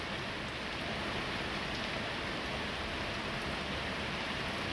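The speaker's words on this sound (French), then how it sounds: "Je déconne pas, il grêle" Hail pelting down at night during an early February thunderstorm, a dense steady hiss of small impacts that holds evenly across the whole stretch with no voices.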